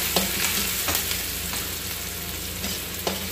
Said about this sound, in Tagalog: Una po natin lalagay yung sibuyas.